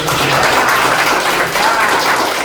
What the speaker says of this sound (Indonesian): Oke, tepuk tangan dulu dong buat kita.